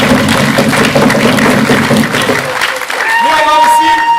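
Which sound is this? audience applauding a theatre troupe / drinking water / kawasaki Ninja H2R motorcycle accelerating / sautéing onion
audience applauding a theatre troupe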